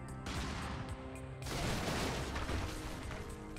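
A Brigador warning shot fired from an armored vehicle into a suburban building, a dense, loud burst of gunfire that starts abruptly and rumbles on steadily.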